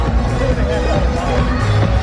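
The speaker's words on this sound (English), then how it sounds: "The crowd showing their support for Jabali." A wrestling event crowd cheers and murmurs in a large venue, a dense roar of many voices with shouts rising and falling throughout the short stretch.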